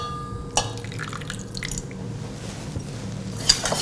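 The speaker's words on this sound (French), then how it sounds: "On ajoute le jus de yuzu." Yuzu juice poured into a hoisin sauce marinade for a tofu veggie burger, a few small wet drips and splashes with a soft liquid squish, close and quiet.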